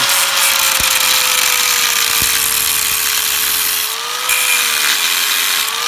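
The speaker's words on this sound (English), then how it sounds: "you're going to want to get a grinder out and take a grinder to it" An angle grinder working a laptop hard drive, a loud steady whine with a high tonal pitch that dips briefly near the end, close and continuous with no voices.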